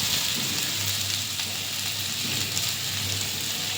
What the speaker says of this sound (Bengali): আমার কিন্তু এটা প্রায় ভাজা ভাজা হয়ে এসছে